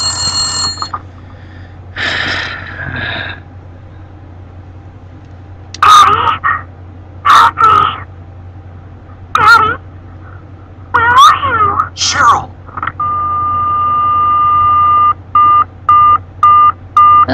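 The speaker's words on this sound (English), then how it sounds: "but the phone rang." A telephone in the Silent Hill video game rings in short, sharp electronic bursts, loud and close, separated by silences, ending in a quick run of rapid rings after a sustained tone.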